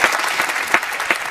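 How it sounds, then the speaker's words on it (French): A short burst of dense, steady applause from a studio audience at a television talk show, many hands clapping together throughout with no voices. "Pierre applaudit."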